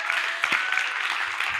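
A congress audience at a plenary session claps for a new president of Poland UNIMA with brief, fairly close applause and a few individual claps standing out.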